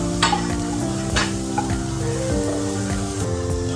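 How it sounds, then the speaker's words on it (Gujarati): Onion fries in butter in a pan with a steady close sizzle, and a utensil scraping and clinking against the pan keeps stirring through it. "પહેલાં ડુંગળી બટરમાં શેકી દેવાની"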